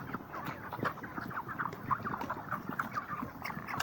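Broiler chickens about 35 days old inside an Egyptian poultry farm house cluck and chirp continuously. The sound is a soft, busy murmur of many birds close by.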